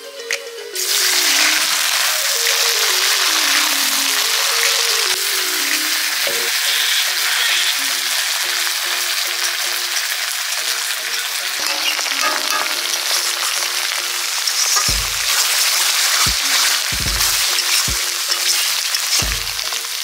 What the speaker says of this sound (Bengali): ভেন্ডিটা তেল গরম হয়ে গেছে, ভেজে নেবো প্রথমে।